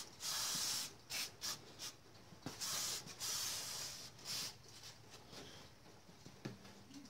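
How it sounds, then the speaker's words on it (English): Brake parts cleaner sprayed from an aerosol can while deglazing the cylinder of a Briggs & Stratton Quantum 6hp engine: a few sharp hissing bursts of varying length, close and fairly quiet, with small clicks between. "Get a little brake parts cleaner here."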